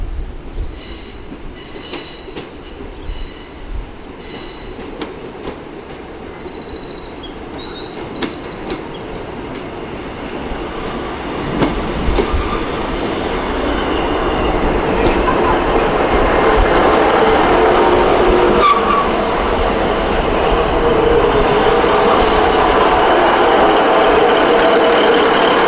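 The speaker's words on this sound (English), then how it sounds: "The train is now making the steep climb up the hill" A train on the Looe Valley Line in Cornwall climbs a steep 1 in 40 gradient near Liskeard, its rumble heard from aboard and swelling steadily louder, with faint wheel squeals and bird chirps early on.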